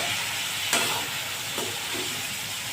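Food for matar paneer sautéing in a pan, a steady broadband sizzle with a couple of brief scraping stir strokes, fairly quiet and close, with no talk.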